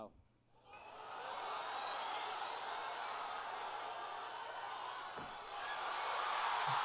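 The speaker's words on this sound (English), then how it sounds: "Listen to that crowd." A large crowd at a Final Fantasy XIV expansion announcement roars and cheers continuously at a distance, a steady wash of noise that swells slightly toward the end.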